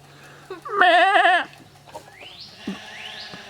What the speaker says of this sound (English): out in the pasture looking after the sheep